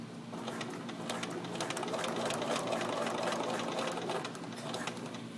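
A Bernina sewing machine runs steadily, stitching corner elastic strips onto a handmade iPad case, its close, continuous mechanical whir holding an even level throughout without pause.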